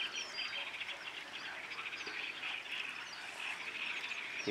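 Steady outdoor chorus of calls, with a duck quacking among other birds by a polluted river settling pond, continuous and moderately distant, no talking.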